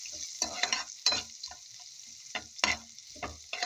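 Garlic, rice and egg yolk fry in a pan under steady stirring, a constant bright sizzle broken by repeated scraping strokes of a utensil against the metal, close and moderately quiet.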